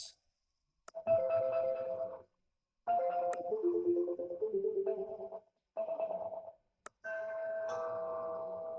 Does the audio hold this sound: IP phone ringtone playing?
yes